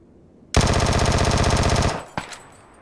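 In the video game PUBG (Battlegrounds), a loud automatic weapon fires one sustained rapid burst lasting over a second, followed moments later by a single separate shot and a fainter echo, with no voices.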